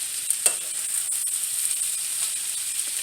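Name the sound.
onions and garlic frying in pan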